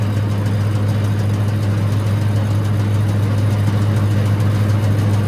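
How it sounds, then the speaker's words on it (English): A tractor engine idles steadily with a deep, constant drone and rattle, close and loud, with no talking over it. "I'm gonna turn this tractor off and show y'all what I did"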